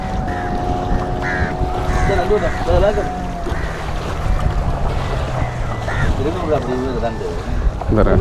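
Fishing boats come in to the shore at Kachchai, Jaffna, with a low engine drone under wind buffeting the microphone and voices talking nearby.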